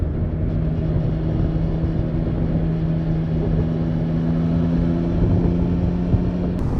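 A Triumph Trident 660 three-cylinder motorcycle accelerates with a steady engine drone and a low hum under heavy wind rush, sustained and close without a clear rise in pitch.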